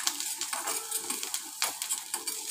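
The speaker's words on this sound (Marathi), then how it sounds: "2 चमचे तेल घालून त्यामधून कांदा परतून घेत आहे। जिरे मोहरी फोडणीला लसूण आणि कांदा" Onion with garlic, cumin and mustard seeds frying in oil in a pan, stirred: a quiet, steady sizzle broken by soft scraping and stirring sounds, with no voices.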